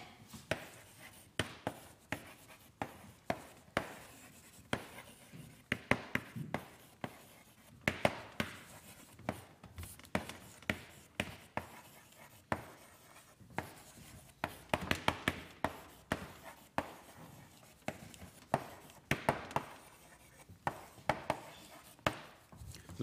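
Chalk on a classroom blackboard, sharp repeated taps and scratches in irregular bursts, fairly close, over a long stretch with no talk.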